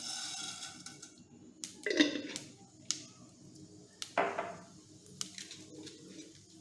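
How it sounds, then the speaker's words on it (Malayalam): Mustard seeds pop in about two tablespoons of hot oil in a pan for a bitter gourd thoran. A handful of sharp, sporadic crackles and pops sound close but quiet. "കടുക് പൊട്ടി തുടങ്ങിയിട്ടുണ്ട്"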